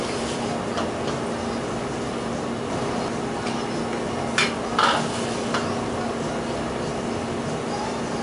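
A wooden paddle works through mozzarella curd in hot water, a steady wet swishing with a few soft knocks and splashes, fairly close and without talk.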